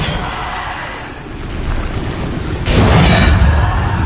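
A Bombarda explosion spell goes off in Hogwarts Legacy, one sudden loud booming burst after quieter rumbling combat noise.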